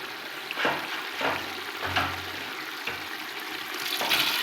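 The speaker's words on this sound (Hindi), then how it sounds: "अब मैं इसके अंदर पानी ऐड करूँगी" Water pours and splashes into a pot of chicken pulao with rice and green chillies in a steady stream, with faint sizzling and stirring underneath, close by.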